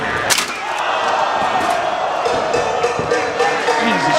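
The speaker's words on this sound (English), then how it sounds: "Crowd breaks out into a huge CZW chant" A wrestling crowd fills the air with a steady, loud roar of cheering and chanting at a CZW show after a gusset plate match slam, with sharp impacts and shouts cutting through the dense noise.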